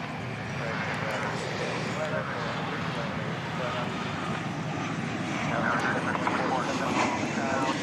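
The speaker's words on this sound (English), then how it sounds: "Here's that Sun Country plane." A Sun Country airliner at DFW Airport gives a steady, broad engine roar that holds throughout and swells slightly toward the end, with faint voices in the background.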